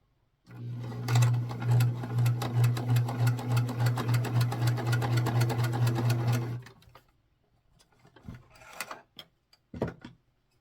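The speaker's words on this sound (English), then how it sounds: "now we're going to sew the other one on" A sewing machine stitches mini quilt pieces in a steady, close, fast rhythmic hum for about six seconds, then stops, followed by a few scattered handling clicks and taps.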